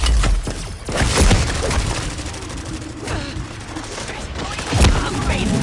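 Rapid FFAR rifle fire in a video game crackles in dense, continuous bursts, with loud, near shots layered under game effects and a voice.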